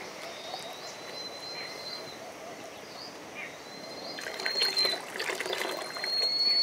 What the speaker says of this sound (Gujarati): હવે પાણી નાખી દીધું છે, ઓલમોસ્ટ આપણી ગ્રેવી પાકી ગઈ છે